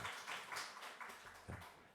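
A church congregation at an early-morning prayer service gives a short round of applause, heard as faint, somewhat distant clapping in a quick, even patter that lasts a couple of seconds.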